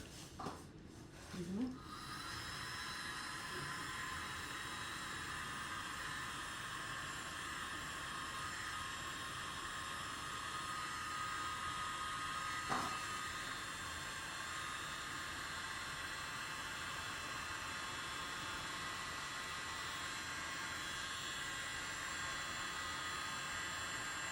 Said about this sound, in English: I'm going to blow it out with my blower